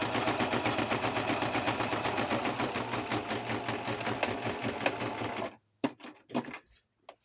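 A sewing machine stitches window tags in a fast, steady mechanical chatter for about five seconds, then stops abruptly, leaving a few soft clicks and handling sounds.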